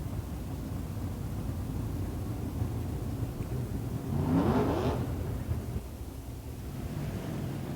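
Super sedan race car at Moama Speedway, its engine surging past from a distance at about four seconds over a constant broadband roar of wind and crowd noise.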